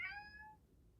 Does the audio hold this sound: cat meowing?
yes